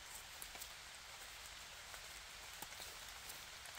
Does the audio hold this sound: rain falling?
yes